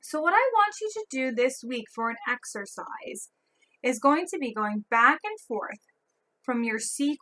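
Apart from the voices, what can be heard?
No everyday noise stands out behind the speech.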